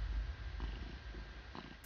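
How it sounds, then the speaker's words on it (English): A cat purrs softly and steadily, low and close, with a faint background hum and no other sounds. "Kitty's purring."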